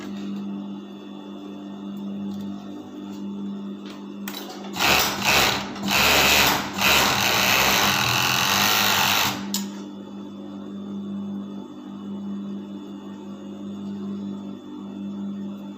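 A sewing machine stitching bodysuit fabric runs in one loud continuous burst of about five seconds, its rapid mechanical whir rising over a quiet room hum that carries on before and after.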